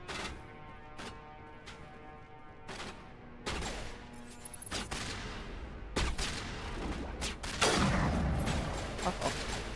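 Rapid video game gunfire crackles in bursts and single shots, close and loud, some volleys dense like a fusillade, with brief gaps between.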